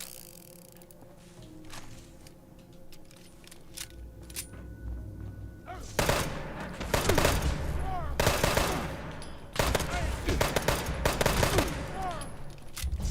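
Automatic gunfire in a video game: quieter scattered shots at first, then loud rapid bursts of fire from about the midpoint, repeating in several dense volleys.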